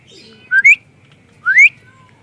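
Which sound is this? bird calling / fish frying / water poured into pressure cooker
bird calling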